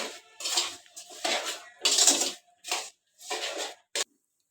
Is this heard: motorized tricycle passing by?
no